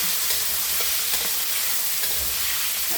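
Shrimp frying in a pan, a steady close sizzle with occasional stirring scrapes and pops throughout.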